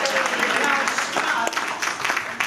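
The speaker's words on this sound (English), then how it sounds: "Give him a round of applause" An audience at a magic competition applauds a magician, a loud burst of clapping and crowd noise filling the room for a couple of seconds, steady then slightly thinning.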